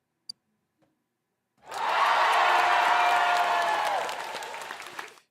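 A round of applause from a crowd swells in after a couple of faint clicks, holds as dense clapping for a few seconds, then tapers off.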